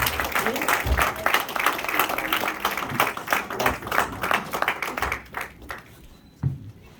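A church congregation claps for the Lord during a sermon, dense rapid clapping filling the space and tapering off toward the end, with a voice heard briefly over it.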